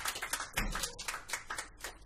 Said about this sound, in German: Applaus für die Damen.